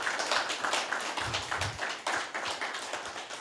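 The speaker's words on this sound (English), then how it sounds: "Let's give Edward a round of applause." An audience at a panel event on boys' transition to manhood claps for a panelist. It is a brief burst of brisk, dense clapping at close range.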